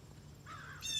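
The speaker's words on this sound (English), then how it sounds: "Crow, 2 of them." Crows call outdoors on a quiet morning, one harsh caw rising out of the background hush and a second sharper caw following at the end, fairly distant.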